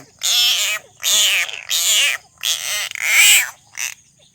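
Large frogs caught in a trap let out six loud, close, throaty croaking calls in separate bursts, each roughly half a second long with short pauses between, and no talk over them.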